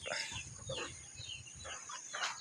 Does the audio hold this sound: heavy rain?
no